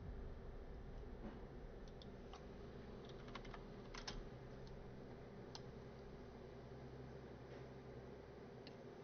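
Quick clicks from a Keychron K4 mechanical keyboard come in short irregular bursts and lone taps, fairly quiet over a constant low background hum.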